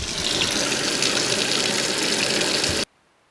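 Steady running water rushes from a tap while a part is rinsed, a constant close hiss that cuts off abruptly into silence near the end.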